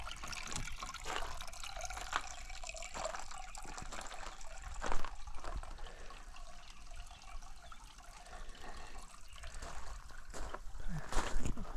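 A garden sprinkler sprays water beside backyard ponds, giving a steady broadband hiss and patter with irregular splashy bursts throughout, fairly close and continuous, with no talking.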